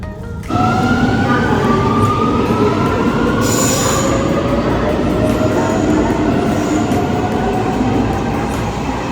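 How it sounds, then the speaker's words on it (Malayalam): Rome metro train running through a tunnel, a loud, close, continuous rumble of wheels on rails with rising squeals and whines from the wheels and motors. "ഇവിടെ നിന്ന് നമ്മൾ മെട്രോ എടുത്ത് ഒത്തവിയാനോ എന്ന സ്റ്റോപ്പിലാണ്"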